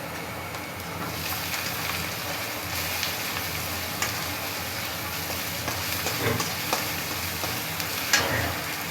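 Spices with ginger, garlic, salt, chili and turmeric sautéing in a pan, a steady broadband sizzle with occasional light spatula scrapes, close and even throughout with no voices.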